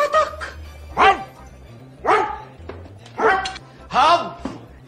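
A person imitates a dog barking, four or five loud, close, rhythmic barking yelps spaced about a second apart, a comedy film scene with no other talk.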